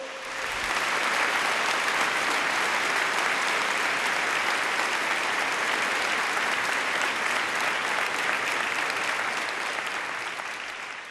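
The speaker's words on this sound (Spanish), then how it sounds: "Démosle un aplauso también al rector." Congregation at an archbishop's Mass in Cali applauding the rector, a loud sustained wash of clapping from a large crowd lasting several seconds before tapering slightly, no voices over it.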